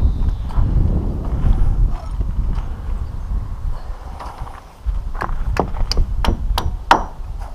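Hammer blows on a rooftop while roof ladders are being fitted: a rapid run of sharp, close strikes near the end, following wind rumble and faint handling noise.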